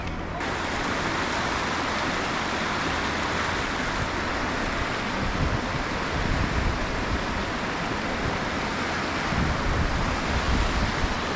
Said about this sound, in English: Check out these really cool waterfall springs that are pouring into the river here.